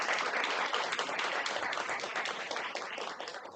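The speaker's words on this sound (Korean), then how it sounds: "제가 조금 잘할 수 있도록 큰 박수 쳐주시면" Applause from an audience in a hall at a weekend family Buddhist service, a dense, steady wash of many hands clapping together that stays loud throughout and tapers slightly toward the end.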